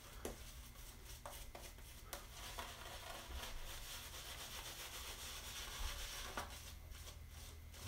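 Shaving brush painting lather onto skin during a first wet shave with a safety razor, a soft continuous rubbing and swishing with occasional brief clicks, close up and steady, with no talking.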